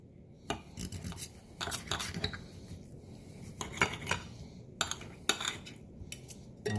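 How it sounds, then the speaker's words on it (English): Sous vide steak tips being cut open on a plate with a knife and fork, a series of close, clinking and scraping cutlery-on-dish sounds in short bursts, no voices. "So we're going to go ahead and cut these open."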